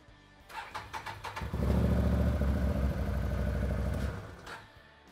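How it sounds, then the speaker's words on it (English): A Can-Am Maverick 1000R side-by-side engine cranks with a few starter pulses, catches and settles into a loud, steady idle for a couple of seconds, then shuts off, with no talking. "and then we'll run the engine"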